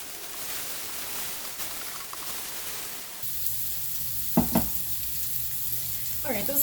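Mushrooms sizzling steadily in a frying pan, a constant broad hiss with a few sharp clicks and scrapes from stirring, heard alone without talk.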